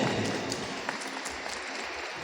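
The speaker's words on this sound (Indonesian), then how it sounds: "Tepuk tangan untuk ketua PCNU" Applause from a religious gathering's audience in a sports hall for the PCNU chairman, a broad steady wash of clapping that holds evenly for the whole stretch without a voice on top.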